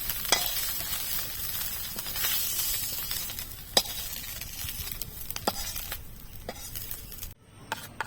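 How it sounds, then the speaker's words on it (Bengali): Mourala fish frying in hot oil in a pan give a steady close sizzle, with a few sharp clinks of a utensil against the pan and a brief pause near the end. "মাছগুলো ভালো করে ভাজা হয়ে গেছে"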